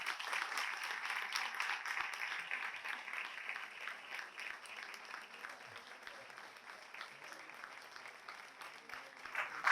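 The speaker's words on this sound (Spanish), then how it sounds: "pido para él un fuerte aplauso" Sustained applause from an audience at a book presentation for the author, steady clapping that thins slightly over the stretch, moderately distant with no talk.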